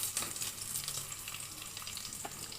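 Tempering seeds, onion, green chilli and curry leaves frying in hot oil, a steady close crackling sizzle with scattered pops, no voices.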